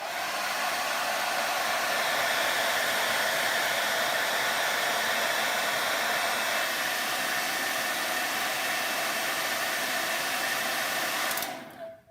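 A hair dryer blows continuously at close range to dry IOD moulds, a loud steady airy whoosh with a constant motor whine that cuts off abruptly near the end.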